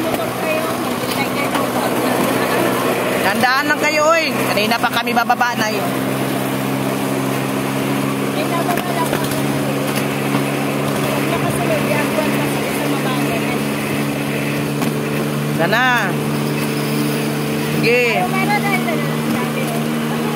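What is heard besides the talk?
motorboat engine running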